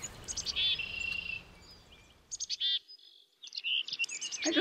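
Several birds sing varied, repeating chirped phrases in clear bursts, some near and loud, others fainter, with a brief quiet gap and a hiss of outdoor background in the first half.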